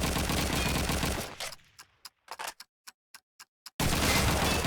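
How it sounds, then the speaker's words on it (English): Rapid rifle and machine-gun fire in Call of Duty 2 on the Burgundy map, with loud sustained shooting broken by a near-silent stretch of sharp, evenly spaced single shots before heavy fire resumes. "Shots being rattled off here."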